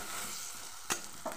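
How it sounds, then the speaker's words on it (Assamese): Pumpkin leaf fritters fry gently in a small amount of oil over a low flame, giving a steady faint sizzle with a couple of brief louder crackles, no voices. "কম তেলত এইটো ভাজিব লাগে"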